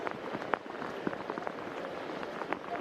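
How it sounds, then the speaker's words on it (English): Heavy rain pours at an outdoor football match, a steady broadband hiss with scattered sharper drop and splash hits; no talk over it. "It's really raining very hard here."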